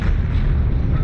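A tank cannon booms in the online war game Heroes and Generals, a single loud, dense blast with a rumbling low tail filling the whole short moment.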